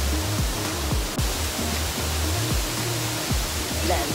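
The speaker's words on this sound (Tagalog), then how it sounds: "Lanzones Falls." Lanzones Falls pours in a dense, steady roar of rushing water, loud and close, with faint voices briefly under the spray.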